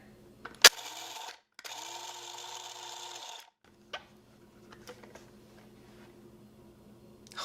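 Electric grinder running in a home kitchen, starting after a sharp click, with two steady whirring bursts that then stop, followed by faint clicks and rattles at low level.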